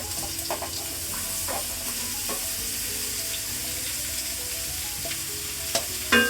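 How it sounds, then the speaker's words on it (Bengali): Mango pieces for pickle tipped into hot oil in a home kitchen give a loud, close, steady sizzle that runs without a break, with a few light clinks of stirring and no talking. "আম্মু এখন তেল দিয়ে দিল এখন আমি এটা আমটা ঢেলে দিচ্ছে"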